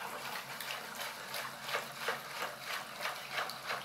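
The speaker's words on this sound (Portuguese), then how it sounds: "Voltei com o óleo e vou colocando logo." Cooking oil pours steadily into a container for making soap, a faint liquid gush with soft rhythmic glugs, close and quiet, with no voices.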